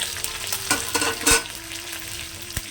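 Curry leaves and green chillies sizzling in hot oil in a pan for upma, a steady close crackle with a few sharp pops and spoon stirring.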